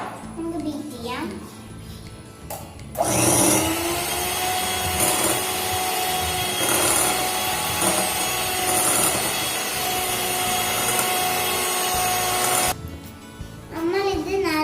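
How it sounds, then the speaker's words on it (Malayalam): Egg yolks being beaten in a bowl: a steady, continuous whirring rush of about ten seconds, with a voice talking before and after. "ഇനി നമ്മൾ ഇതിലേക്ക് മുട്ട ഇട്ടിട്ട് ബീറ്റ് ചെയ്തെടുക്കണം."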